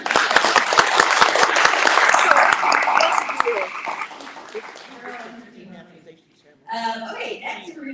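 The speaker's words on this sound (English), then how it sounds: "we need another big round of applause for her" Loud audience applause from a crowd at an annual meeting fills the first five seconds, then thins to scattered claps and fades as a voice begins speaking near the end.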